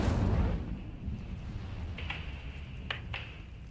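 The Incendio fire spell cast in Hogwarts Legacy opens with a loud, rushing burst that quickly fades into a low rumble, followed by a few faint sharp sparkles.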